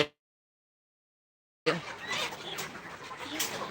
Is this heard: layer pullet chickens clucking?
yes